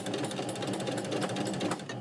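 A sewing machine stitches a seam on sheer skirt fabric with a quick, steady mechanical rattle, close and continuous with no talk.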